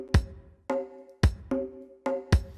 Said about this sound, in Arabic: هتسمع السنير والكيك مع بعض